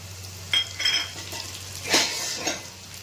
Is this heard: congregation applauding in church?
no